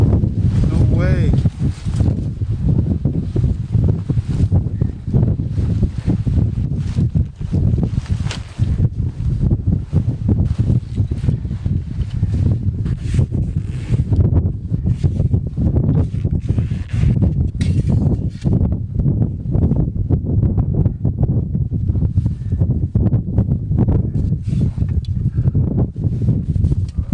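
Strong Arctic wind at minus 40 C gusts against a tent in open snowy wilderness, a loud, continuous roaring rush with flapping and buffeting throughout, and a voice talking over it.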